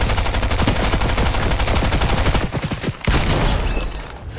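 Rapid sniper and automatic gunfire in a video game battle mode, dense overlapping shots in a loud sustained burst with a brief gap near the end before firing resumes.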